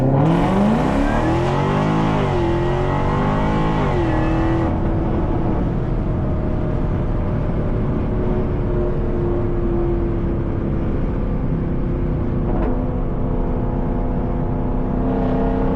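A Jaguar F-Type R accelerates with a loud, continuous exhaust note that climbs in pitch through the gears, then settles into a steady, purring cruise.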